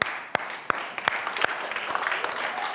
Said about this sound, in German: Applaus an euch.